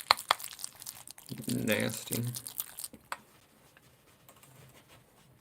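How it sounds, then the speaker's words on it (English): A spoon stirring a pudding cup gives a close, wet squelching and sticky clicking for a couple of seconds, surrounded by scattered ticks and scrapes, with a person speaking briefly over it. "Just gonna mix up my pudding. It sounds like this."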